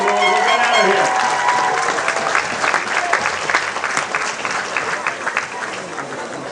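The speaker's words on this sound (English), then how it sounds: "So, big round of applause for Mayor Young" A crowd applauds at a Canadian junior football game between the Okanagan Sun and Westshore Rebels. The clapping is steady and fairly loud throughout, fading slightly toward the end, with a voice over the stadium speakers at the start.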